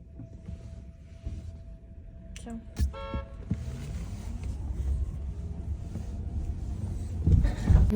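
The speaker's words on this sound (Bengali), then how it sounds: "তো আমার হাজবেন্ড তো ড্রাইভ করছে" A car drives along a snowy road in cold winter weather, its steady low engine and tyre rumble continuous throughout, with a brief horn-like toot early on and voices talking over the drive.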